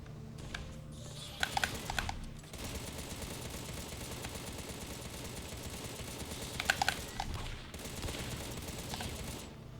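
Gunfire bursts from Contra: Rogue Corps play, clusters of quick shots over a constant busy game-action din, with two louder bursts standing out early and again later; no talking.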